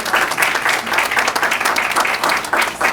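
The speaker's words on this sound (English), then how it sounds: "Clap for these fellows." Audience applause fills a community hall at a Lackawanna County Commission for Women bookmark competition winners event, a dense, steady wash of clapping from many hands lasting throughout.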